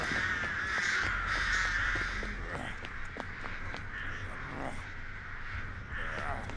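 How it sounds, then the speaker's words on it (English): Crows caw repeatedly in a video game, a continuous harsh chorus of many birds close at hand, layered over low background rumble. "now we need to get rid of these crows"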